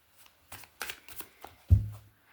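A deck of tarot cards being shuffled by hand: a quick run of soft papery riffles and flicks ending in a muffled thump as the deck is squared, close up and without talk.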